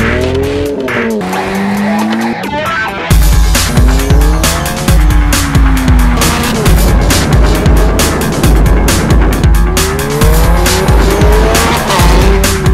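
A Ferrari sports car races hard around a track, engine revving up and down through gear changes with tires squealing, loud and close, continuous roaring throughout.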